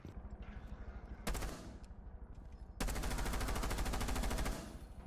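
Automatic gunfire in the shooter game Rainbow Six Siege, with one short burst followed by a longer sustained rapid burst of loud, close shots over faint background game noise.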